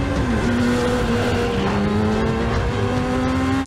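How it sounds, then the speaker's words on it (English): Motorcycle chase from the film Mission: Impossible – Fallout: a loud, continuous engine whine holding a steady high pitch that slides upward near the start, with dense road and traffic noise underneath and no talking. "Motorcycle chase."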